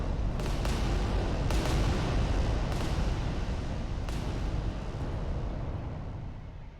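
Titan weapons firing a volley of shots in the Adeptus Titanicus tabletop battle game, dense rumbling booms with several sharp blasts over a sustained roar, loud and continuous with no talk.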